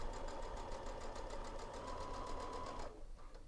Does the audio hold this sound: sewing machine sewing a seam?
yes